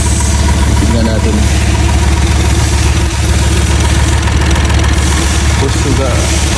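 A hot car engine runs steadily with a droning, airplane-like roar, loud and continuous with a strong low rumble, while a mechanic troubleshoots it and raises the engine speed.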